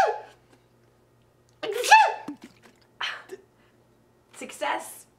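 A person sneezes in a comedic golf scene, with a sharp burst followed by further sneezing and breathy bursts, close and loud against near silence.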